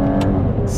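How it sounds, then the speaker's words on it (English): An Aston Martin Vanquish grand tourer revs hard with its tires spinning, a loud close engine roar over a brief burst of hiss in under a second. "Spinning those tires."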